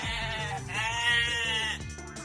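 Goat bleating close to the microphone, one long wavering bleat with tremulous harmonics, followed by a brief second animal call at the end, with no talk over it.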